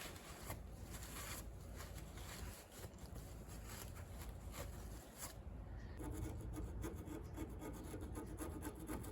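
A screwdriver scrapes stuck brake caliper pins from a 1994-1996 Chevy Impala SS or Caprice 9C1, giving repeated close, gritty rasping strokes in an uneven back-and-forth rhythm, with no talking.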